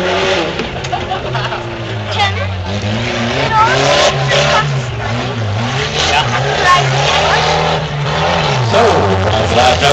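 Tough trucks racing over jumps at the 2008 RMRP event: engines roar and rise and fall as throttle is worked, with tire noise, while a commentator talks over the action throughout.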